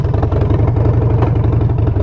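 A loud, old, rusty motorcycle engine runs steadily nearby, a dense low rumble with rapid clattering pulses and no pauses or voices.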